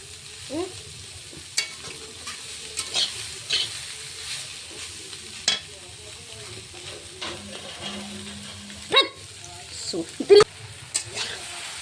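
Pasta being stirred through a pan, with scattered spoon scrapes and soft clinks over a low background hum and a faint voice now and then.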